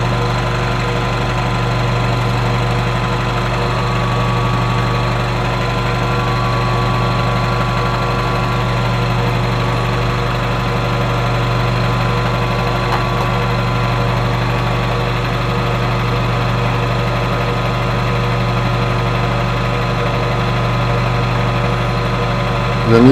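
Constant mechanical hum and whine of a milling machine on power feed, a 1/2 inch two-flute high-speed steel end mill cutting steadily, with a steady tonal drone and faint rattle throughout, no voices.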